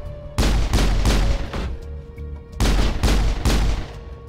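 Heavy gunfire in the video game Mass Effect 1, loud booming shots in two clusters of rapid blasts separated by a brief lull, close and punchy with a low hum beneath.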